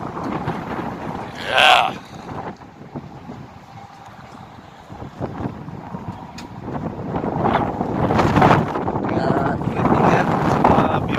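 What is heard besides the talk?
strong wind during a sandstorm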